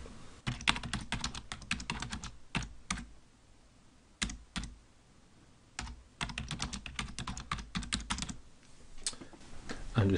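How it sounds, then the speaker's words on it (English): Notes are typed on a computer keyboard in quick bursts of close, crisp key clicks, broken by short pauses. "and we can start typing."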